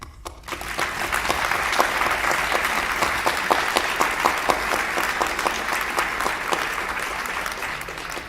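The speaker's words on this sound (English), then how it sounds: "Let's applaud the book" An audience at an evening author event applauds steadily for about eight seconds, a dense, sustained wash of clapping that stays even and fairly close.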